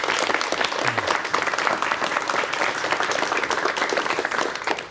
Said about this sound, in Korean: 여러분 박수로 맞이해 주시면 되겠습니다.